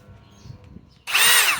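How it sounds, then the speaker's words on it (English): RIDGID high-torque hammer drill, rated 1200 inch-pounds and powered by a 3 amp Octane battery, snaps on abruptly after a quiet moment and runs loud and steady at speed 1 to the end. "RIDGID high torque hammer drill, 1200 inch-pounds, 3 amp octane battery"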